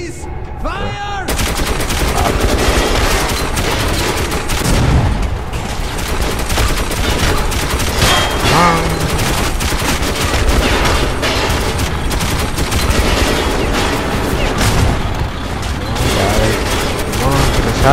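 Heavy gunfire in the game Metro 2033 Redux, loud rapid automatic bursts and shots nearly nonstop for eighteen seconds, with voices talking underneath the shooting.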